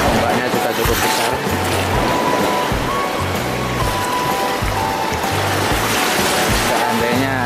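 Large ocean waves at a deep stretch of Pudak beach roll in with a constant loud rushing wash, broad and steady without clear breaks, close to the shore.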